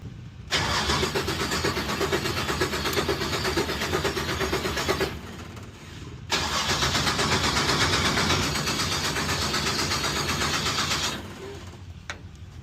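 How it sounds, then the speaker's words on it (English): A Springspeed Nationals drag car's engine is cranked to build oil pressure, with two long, loud, steady spells of motorized whirring broken by a brief pause, close and without talk. "Just crank it to oil pressure."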